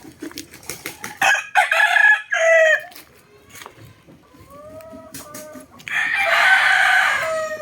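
A Boston Cross gamecock rooster crows several times close by, each loud call ringing out in bursts with quieter clucking and rustling between crows.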